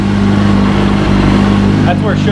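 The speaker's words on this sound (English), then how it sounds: "That's where it should be idling." Motorcycle engine idling close by with a steady, even low hum, and a brief higher vocal sound near the end.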